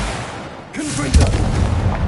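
A Confringo fire spell blasts in Hogwarts Legacy, a sudden booming burst with a whooshing fiery tail, preceded by a short spoken voice and ringing on briefly afterward.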